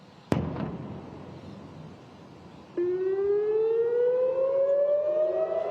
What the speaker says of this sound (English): Warning sirens rang out across the country